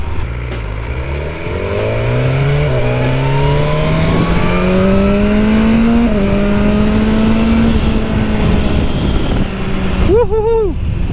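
A 2022 BMW S1000R motorcycle revving hard while ridden, its engine pitch climbing in repeated rising sweeps as it pulls through the gears, loud and close, then easing off briefly near the end.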